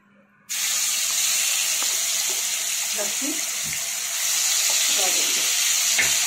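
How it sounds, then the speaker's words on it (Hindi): Garlic and tomatoes start sizzling in a hot pan with a sudden loud hiss. The frying continues steadily, with faint scraping and stirring clicks underneath. "लहसुन को हल्का कनी 1 मिनट टमाटर का भून देंगे"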